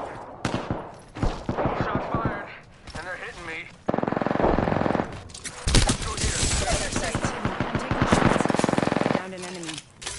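Havoc energy assault rifle from Apex Legends firing in rapid automatic bursts, loud and close, with a charged whine between volleys and game effects, while a voice talks over the shooting.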